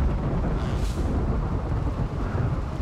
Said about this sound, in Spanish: ¿Cómo llueve?